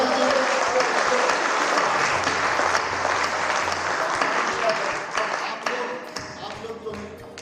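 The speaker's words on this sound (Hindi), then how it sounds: "तालियां बजा दीजिए।" A crowd at a Hindi poetry recital breaks into loud, sustained applause that fills the hall at first, then gradually thins and fades toward the end.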